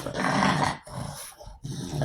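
A pug growls up close, loud rumbling snarls in two or three bursts separated by short breaths, with no one talking over it.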